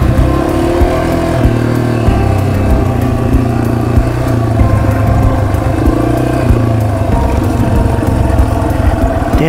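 A Yamaha TW200 motorcycle pulling in first gear on an intermediate dirt trail at Rowher OHV, a loud close single-cylinder engine drone with steady revving and slight throttle fluctuations throughout.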